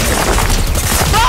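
Rapid SMG gunfire from the video game Fortnite crackles in a dense, continuous burst at close range, filling the short moment at high volume.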